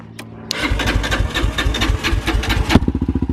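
A Yamaha Raptor 450 quad engine cranks and fires up, settling into a loud, steady, rapidly pulsing idle close by, then dropping to slower, distinct putters near the end.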